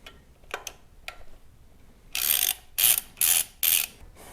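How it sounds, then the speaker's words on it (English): A ratchet socket wrench with a 5/32 socket loosens the throttle body bolts on a 2015 Harley-Davidson Street Glide. A few light clicks come first, then four close, crisp bursts of rapid ratcheting. "Now it's time to remove these 3 bolts."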